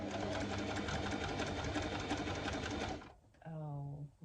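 A sewing machine stitching clothing, running in a steady fast mechanical whir for about three seconds before stopping abruptly. A person then talks nearby.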